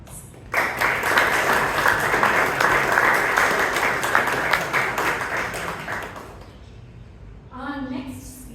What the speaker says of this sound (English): Let's give Toastmaster Fazlur and Toastmaster Shivam a round of applause